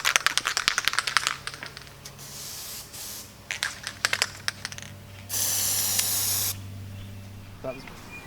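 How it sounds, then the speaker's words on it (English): An aerosol spray can, the hot-can type fitted with a changed tip, fires onto a piece of plastic in a loud, close hiss lasting just over a second, after scattered clicks and shorter bursts. "I'm going to spray it onto this piece of plastic"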